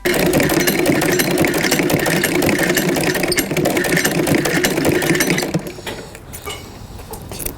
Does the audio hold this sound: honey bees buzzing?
no